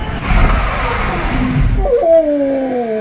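Citroën Ami driving on a wet road in rain, loud road and tire rush easing off as it brakes, then a short rising whine at the end.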